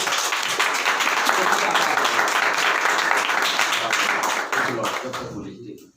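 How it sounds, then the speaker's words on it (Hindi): Loud congregational applause at a church sermon in a seminary, a crowd clapping vigorously and continuously before tapering off into quiet at the end. "खुदा के जलाल के लिए एक बार तालियां बजाइए जोर से"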